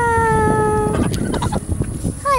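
Turkeys cluck and call loudly and close by, starting with a sustained tonal call and then breaking into choppy, irregular clucks, with other poultry nearby.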